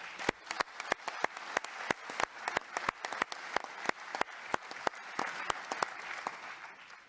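A small group claps for team members at an ICAO Credentials Committee meeting, sparse individual hand claps ringing out distinctly at a brisk, uneven pace, fairly quiet in a meeting room.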